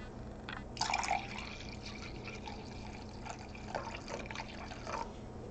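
Water poured into a container while coolant is mixed for a PC water-cooling loop test, a soft, faint trickling and dripping that runs through the whole stretch with a few brighter splashy bursts.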